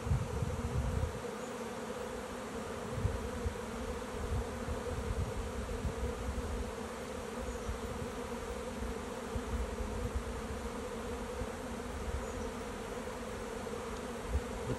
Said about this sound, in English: Just a bunch of bees looking for a new home.